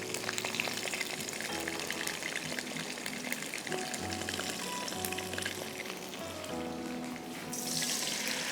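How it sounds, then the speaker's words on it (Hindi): Onion paste frying in about a quarter cup of oil, a loud, continuous close sizzle with steady crackle that holds at a fairly even level throughout, with no talking. "क्वार्टर कप जितना ऑयल ले लिया हमने और इसमें हम अब डालेंगे अनियन का पेस्ट"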